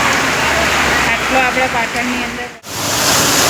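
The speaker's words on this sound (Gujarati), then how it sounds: "જો વરસાદ આવ્યો છે ને આપણે પાટણમાં ફસાઈ ગયો છીએ આજે" Heavy rain and floodwater on a road in Patan, with water rising to a car's bonnet: a loud, steady wash of rushing water close by, nearly unbroken, with a person talking over it and a brief dropout near the end.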